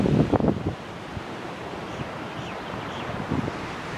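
Ocean waves wash onto the shore along a coastal footpath at Cambaie, a steady rushing surf with a couple of louder swells, buffeted by wind noise on the microphone.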